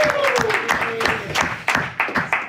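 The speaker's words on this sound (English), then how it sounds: "Round of applause." Audience applause at a boxing press event honouring a two-time world featherweight champion, a close burst of clapping with scattered louder claps and a voice briefly heard over it.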